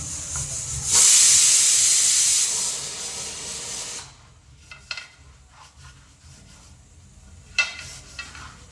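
A pressure cooker of toor dal on the stove lets off its whistle, a loud, sharp steam hiss lasting about one and a half seconds, then fading to quieter kitchen clatter with a brief later puff.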